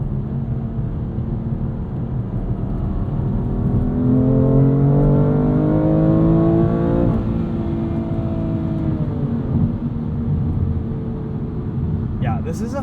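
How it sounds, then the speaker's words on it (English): A 2021 BMW M2 Competition with a DCT gearbox pulls hard toward redline, its turbocharged engine note rising steadily with a faint turbo whistle on top, heard from inside the cabin before the revs drop back. "Get that little turbo whistle at the bass."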